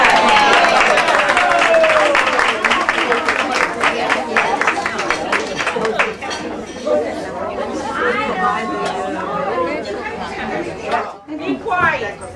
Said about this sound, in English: Having a big round of applause.